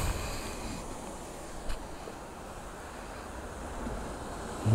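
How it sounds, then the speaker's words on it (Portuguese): Rough sea surf rolls at Caiobá beach as a steady broad wash of breaking waves mixed with wind rumble against the microphone, with no voices. "O mar tá agitado hoje,"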